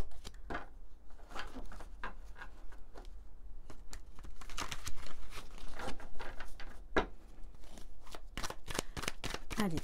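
Tarot cards being shuffled by hand for a love reading, close soft riffling and slapping in irregular bursts, growing busier toward the end.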